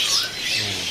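Caged birds at a bird-selling kiosk, among them bayeman and kutilang sutra, give a brief, loud, harsh squawk that fills the whole second with no clear talk.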